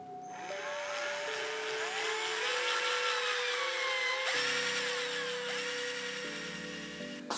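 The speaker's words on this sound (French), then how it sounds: "j'en ai même déjà percé un, mais vraiment c'est tout bête, il suffit juste voilà, de faire des petits trous" A small 2 mm bit drills holes into a swimbait lure with a high, whining power-drill tone. Close and continuous, the pitch shifts a few times as the bit bites and eases off, with no talk.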